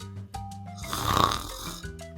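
A loud, exaggerated snore in a children's animal story about sleeping farm animals: a single drawn-out rasping snore that swells to a peak and fades, heard over soft background music.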